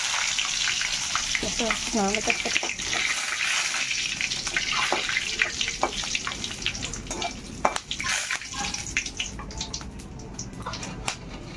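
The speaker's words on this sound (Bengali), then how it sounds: "এই দেখো শুকনো লঙ্কা তেজপাতা এটা দিয়ে দিতেছি।" Dried red chilies and bay leaves fry in oil with a constant close sizzle and occasional stirring, while a voice talks briefly early on.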